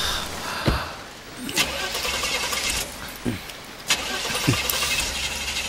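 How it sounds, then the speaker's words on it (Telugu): A car engine cranks repeatedly without catching, several strained bursts of starter noise spaced a second or two apart over a steady background hum, moderately loud and close. "ఇది స్టార్ట్ అయినా లేదు, మెకానిక్ రాక తప్పదనుకుంటా."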